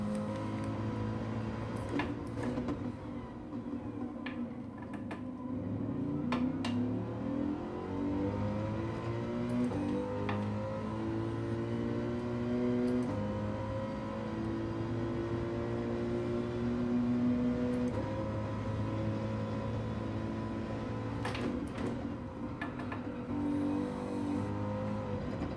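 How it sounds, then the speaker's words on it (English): A racing car's engine in a video game revs and shifts steadily, rising and falling in pitch through gear changes at a constant, fairly quiet level with no talk. "Do love the sound of this car though."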